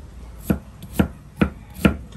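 Four evenly spaced knife chops on a cutting board, each a crisp thud about half a second apart, close and fairly loud with no talking, during home cooking of sinampalukang paa ng manok.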